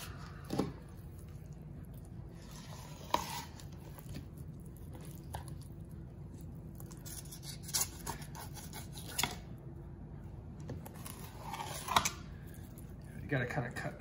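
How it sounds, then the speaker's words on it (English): Knife filleting an ahi tuna close to the bone, with soft scraping and slicing strokes and a few sharper cutting clicks at intervals under steady background noise, close and fairly quiet. "You gotta kind of cut the skin hard"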